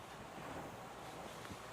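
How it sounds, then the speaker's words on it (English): Steady roar of wind buffeting the microphone and surf crashing on a beach as Hurricane Florence approaches, a loud, unbroken wash of noise. "Look at the sheer amount of water already arriving, and the eye of Florence isn't even here yet."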